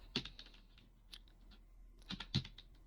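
A computer keyboard is tapped in a short quick burst of keystrokes, a pause, then a few more clicks while a Kali Linux terminal command is entered; close and fairly quiet.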